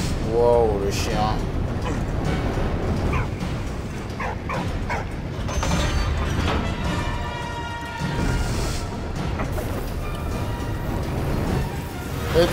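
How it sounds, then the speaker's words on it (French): A dog barks and yips several times amid steady background noise and people talking nearby at the Fort de Beaumont. "Wow, le chien."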